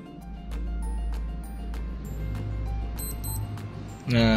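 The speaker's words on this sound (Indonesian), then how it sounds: "pokoknya setiap ganti jam dia bakal ada bunyi titit gitu ya." A Digitec MDG 6064 digital wristwatch gives its faint, short, high double beep for the hourly signal over a steady low room hum, followed by a louder brief sound at the end.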